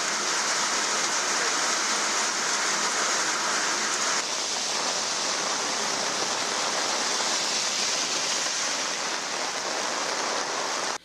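Rainwater floods and rushes along roads in Erode after an hour of heavy rain in Tamil Nadu, heard as a loud, unbroken hiss of flowing water and rainfall with no talk.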